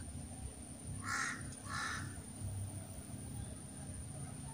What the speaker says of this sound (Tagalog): Hindi pa yung uwak oh. Yung uwak.